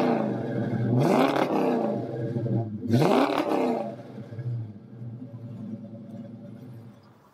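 A 1966 Ford Mustang coupe's V-8 rumbles close by, with two strong throttle blips that rise and fall, then settles into a steady low idle.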